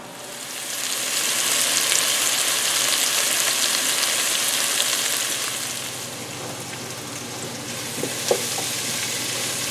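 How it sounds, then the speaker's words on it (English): Onions with a pinch of salt cook down in a pan, giving a steady broadband sizzle and crackle that swells slightly then eases, with a couple of faint clicks near the end and no talking. "we'll let the onions cook down a little bit"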